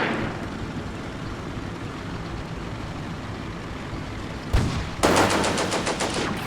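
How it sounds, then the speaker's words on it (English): Combat Mission battlefield rumbles under a steady din of engine and distant firing before a sharp impact hits, then a dense rattling burst of gunfire follows. "Is that mortars or is that anti-tank?"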